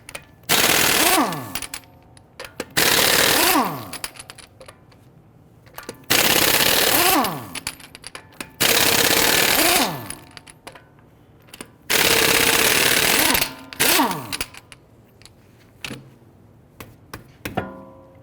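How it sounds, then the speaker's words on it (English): Rapid bursts from a 22mm socket on an impact wrench as front wheel lug nuts are loosened and removed on a 2011-2023 Dodge Charger, several loud separate rattling runs with short quiet gaps between them. "Using a 22mm socket, let's loosen and remove our lug nuts."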